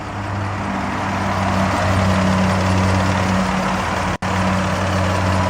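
A 1999 Toyota Sienna XLE minivan's 3-liter V6 idling, a steady low, smooth hum heard close and alone, with one abrupt momentary dropout near the end.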